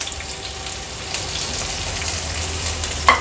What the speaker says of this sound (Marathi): कांदा थोडा तेलावर परतून घ्यायचा आहे